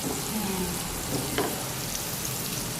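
Onions frying in a pan over medium heat for vegetable pasta, a steady dense sizzle that runs throughout at an even loudness with no voices over it.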